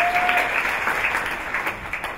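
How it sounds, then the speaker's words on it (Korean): Audience at a performing arts school entrance ceremony applauding a dance professor, dense steady clapping throughout the hall with no speech over it. "박수 한번 부탁드리겠습니다."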